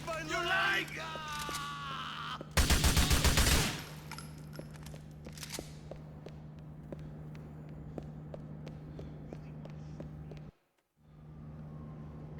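A dense burst of rapid gunfire from the video game Grand Theft Auto IV lasting about a second, loud against a backdrop of game ambience, hum and scattered clicks, with a voice talking at the start.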